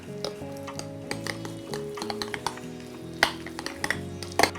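Garden herbs, cracked black pepper and butter stirred together in a bowl, with close soft scraping and a few light clinks of utensil against the dish over a faint hum.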